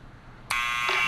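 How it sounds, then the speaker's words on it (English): A loud, sustained electronic apartment door buzzer from the Back to the Future video game cuts in abruptly halfway through and drones steadily to the end over a quiet room tone. "So let's just go over to the buzzer right here."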